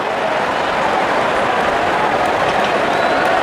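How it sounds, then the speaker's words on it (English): A stadium crowd at an Afghanistan vs Pakistan T20 cricket match cheers and applauds with a steady, dense roar that stays loud throughout. "the crowd cheering in anticipation"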